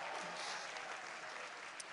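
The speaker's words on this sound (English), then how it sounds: "Give her a great round of applause for that alone." Brief burst of steady audience applause at a Virginia campaign rally for McAuliffe, a dense even patter of clapping at moderate distance with no break in it.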